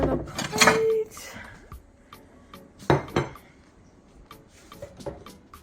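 Dishes clatter in a tiny house kitchen as food is put on a plate: sharp clinks and knocks of plates and cutlery come close and separate, with a cluster at the start, another a couple of seconds later, and lighter taps after.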